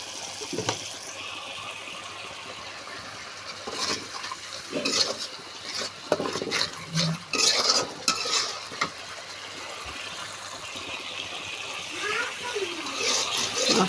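Spice masala stir-fried in a pan makes intermittent sizzling and spatula scraping, with bursts of louder stirring, while a person talks quietly in the background.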